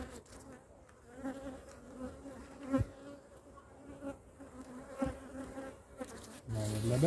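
Honey bees buzz steadily around an open hive during an apiary inspection, a close, continuous hum with a few sharper passes near the listener and no talking.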